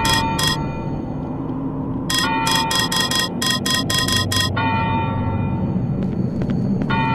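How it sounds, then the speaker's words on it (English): A church bell in the horror video game Cry of Fear rings out in clear, evenly spaced metallic strikes, first two, then a rapid run of about ten, over a low droning ambience with no talking. "The bell's ringing."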